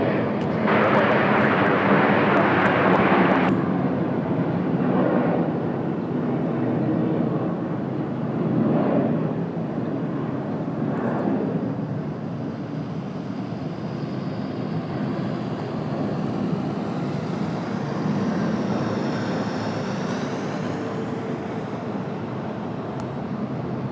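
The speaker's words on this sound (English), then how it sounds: "That departure right here, the one you guys are hearing, is flying almost right directly over top of our heads." A departing British Airways airliner flies almost directly overhead, a steady broad engine roar that holds loud and close, then slowly thins as the jet passes on.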